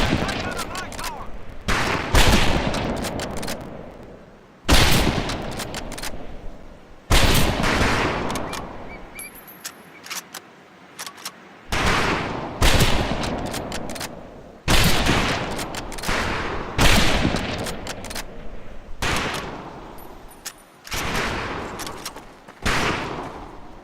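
Gunfire from a tower in Medal of Honor: Pacific Assault: repeated loud bursts of automatic fire, each a dense rattling volley lasting a second or two, separated by short gaps, with distant echoing shots between.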